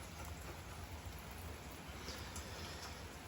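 Steady rain falling outside, a constant even hiss of drops filling the whole stretch at a faint, distant level with no voices.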